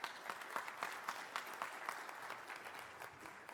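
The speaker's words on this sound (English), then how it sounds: "even if I just say your name, I have to wait for the applause" Audience at a housing policy launch event applauds a cabinet secretary's introduction, with sharp clustered claps at first settling into an even, continuous round of clapping.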